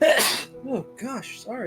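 A single close, loud human sneeze bursts out at the start, followed by a short apologetic spoken phrase in a casual group setting.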